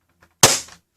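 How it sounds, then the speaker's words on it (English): A Nerf Hyper Siege-50 blaster dry fires once with a sharp, loud spring snap and a short rattling decay. Faint handling clicks come before it, and a brief soft knock follows. "Dry fire."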